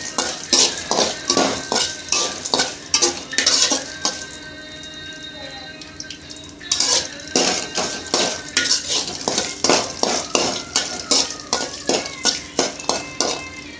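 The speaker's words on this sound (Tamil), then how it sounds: "நல்லா வதக்கி விட்டுக்கலாம்." Cumin, curry leaves, dried chillies and coconut being stirred in a pan, with a spoon scraping and clinking against the metal in a steady rhythm, a short quieter stretch of soft sizzling midway, then the stirring resumes.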